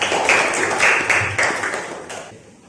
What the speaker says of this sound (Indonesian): Oke, tepuk tangan dulu untuk kita semuanya.